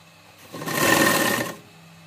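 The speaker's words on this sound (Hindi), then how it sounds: "देखिए इस तरह मैं आधा इंच की मार्जिन पर इसे सिलाई कर रही हूं।" A sewing machine runs a half-inch seam on burqa fabric in one continuous close burst of about a second, swelling up and cutting off, with no talk.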